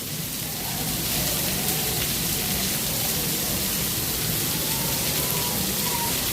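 Steady, dense rain pours at Epcot, a continuous broadband hiss of drops hitting surfaces that swells slightly after the first second and holds evenly loud throughout, with no voices.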